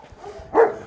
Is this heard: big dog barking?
yes